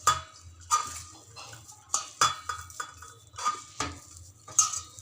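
Spoon scraping and knocking in a bowl as a veg cutlet mixture is worked together with gram flour, giving a steady run of close, sharp clinks and scrapes roughly every half second.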